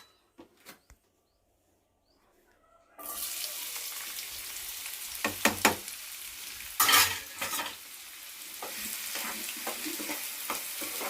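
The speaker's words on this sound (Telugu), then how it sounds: "ఇప్పుడు ఈ ఆయిల్లో మనం ఉల్లిపాయలు క్యారెట్ ముక్కలు వేసుకొని మళ్ళీ" Onion and carrot pieces hit hot oil in a pan for an aloo carrot curry, bursting into a steady loud sizzle after a quiet start, with a few stirring clatters and spoon scrapes over the continuous frying hiss.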